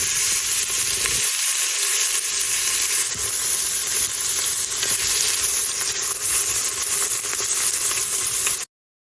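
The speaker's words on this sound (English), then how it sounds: "Now that I have browned the meat in a couple of batches" Meat browns in batches in a CARORI 9-in-1 electric pressure cooker, giving a steady, close, loud sizzle and hiss that runs without a break for about nine seconds and then stops suddenly.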